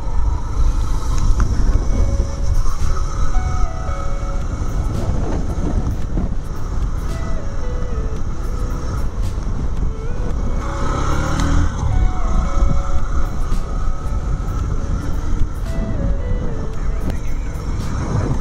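Honda SP 125, a 125cc motorcycle, riding on hill roads, its engine droning steadily with rising and falling gear pitch under heavy wind rush, loud and continuous throughout.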